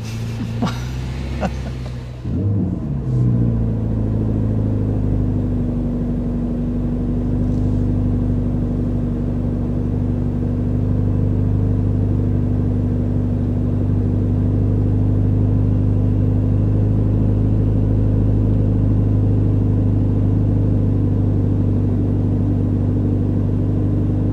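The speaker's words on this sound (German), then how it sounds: "Wir fahren jetzt mal ganz kurz auf die Straße" A 2022 Mercedes-AMG GT Black Series pulling out onto the road, its engine rumbling low and steady after a brief startup burst, heard from inside the cabin as a sustained drone with no talking.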